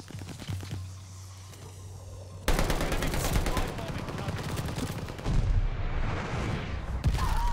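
Call of Duty Vanguard match: a sudden loud bomb blast cuts in after a low droning stretch, then dense rumbling gunfire and explosions carry on to the end.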